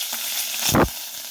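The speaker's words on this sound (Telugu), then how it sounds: "ఆయిల్ వేడైందండి, జీలకర్ర ఆవాలు వేస్తున్నాను." Cumin, mustard seeds, green chili and curry leaves sizzle in hot oil, a constant bright hiss swelling into a brief louder burst as ingredients hit the pan.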